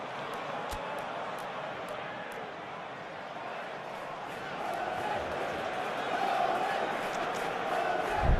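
A stadium crowd in the football game PES 2021 keeps up a steady broad roar that swells louder toward the end, with a few sharp clicks near the start and no voices standing out.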